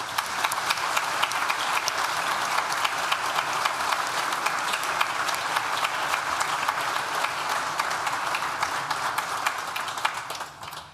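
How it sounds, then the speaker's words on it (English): Audience at a university graduation ceremony for the School of Social Sciences breaks into sustained, dense applause, steady and loud throughout before tapering off near the end. "Please join me in thanking them with a well-deserved round of applause."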